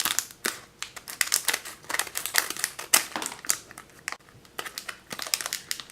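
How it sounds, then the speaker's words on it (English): Scissors cut open blind box figurine packaging at close range, with crisp, irregular snips and crinkling plastic and cardboard rustles, and no talk. "I'm gonna need to use my scissors"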